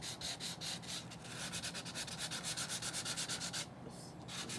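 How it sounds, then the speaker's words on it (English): Close, steady sanding by hand with a sanding block: rhythmic back-and-forth rubbing strokes of abrasive on embossed cardstock, repeating quickly and evenly with a brief pause near the end. "going to give it a little sand here"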